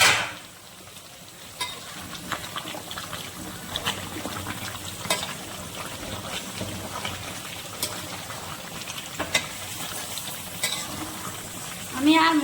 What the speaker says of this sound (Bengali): এখন একটু ঢাকনা ছাড়া একটু ভালো করে কষিয়ে নিব